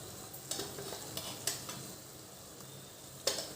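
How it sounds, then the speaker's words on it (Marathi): Turmeric, garam masala, sambar masala and red chilli powder sauté in oil for sambar, a soft, low sizzle with a few quiet spoon scrapes and clinks against the pan, faint and without talk. "मसाले छान परतून घ्यायचे तेलामध्ये तेल सुटेपर्यंत"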